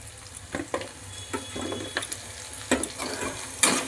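Small cut cauliflower pieces go into a hot pan and fry with scattered sizzles, light clinks and scrapes of stirring in a close, home kitchen setting, with no talk.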